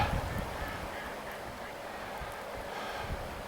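Ducks, likely mallards near an island, honk and quack in the distance over a steady wash of outdoor noise, the calls faint and scattered rather than close.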